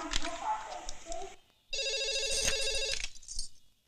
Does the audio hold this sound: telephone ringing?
yes